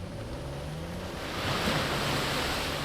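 Steady roar of a waterfall in Uncharted 4, broad rushing water noise with a gentle swell partway through, no voices.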